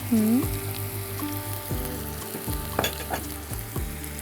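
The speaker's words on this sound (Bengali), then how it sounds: "আমার এটা সুন্দর ভাজা হয়ে গেছে" Oil sizzling steadily in a pan as chicken is fried for a fennel-paste curry, with stirring clatter and a few utensil scrapes, close up and fairly loud.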